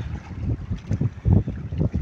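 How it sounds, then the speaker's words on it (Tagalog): Strong wind buffets the microphone in heavy, uneven gusts, with low rumbling bursts that rise and fall. "grabing lakas ng hangin"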